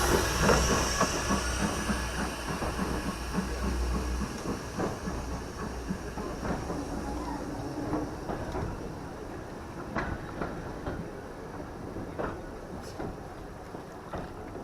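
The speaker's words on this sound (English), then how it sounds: "seeing Sir Cecil A Cochrane arrive with a passenger train." A steam locomotive arrives with a passenger train at the Tanfield Railway with a steady rumble, hissing steam and clattering wheels, fairly distant, with faint metallic clicks near the end.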